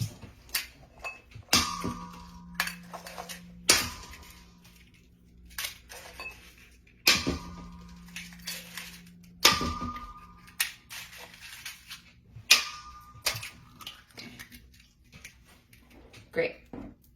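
Six eggs cracked into a mixing bowl, sharp taps on the rim repeating every few seconds, each followed by a short ringing clink, with a person speaking softly between them.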